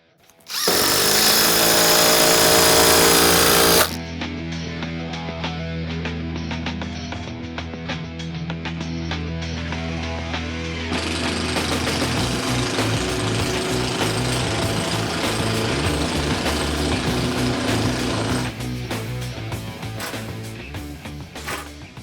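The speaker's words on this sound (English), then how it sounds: "We're going to see how many maximum 50mm screws we can put into this 58mm LVL." A Panasonic impact driver drives 50mm screws into 58mm LVL timber in a long continuous burst of loud, close hammering and rattling, the tone stepping up and down as screws bite and seat, with no talking.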